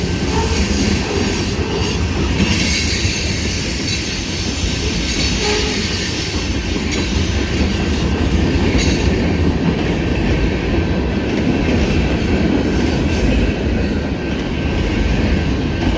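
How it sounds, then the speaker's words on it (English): A long freight train with many tank cars rolls past close by on rails, making a continuous loud rumble with rattling, clanking wagons and a faint high wheel squeal throughout, with no talking. "Lots of tankers at the front of this train."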